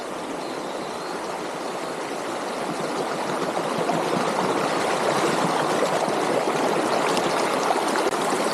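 A mountain river flows through forest near a village in China with a steady, close, broadband rush of water that grows slightly louder partway through and keeps going without a break.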